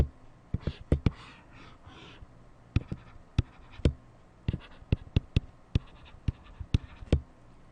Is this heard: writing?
yes